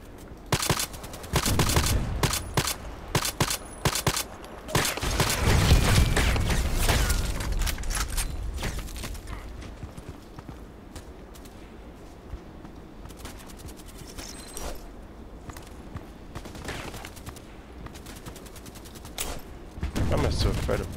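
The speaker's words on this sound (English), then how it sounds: "this guy's shooting at me?" Gunfire in a shooter video game played on a site map with an EBR rifle: repeated loud shot bursts and rapid fire crackle over constant game background noise, with a person talking at times.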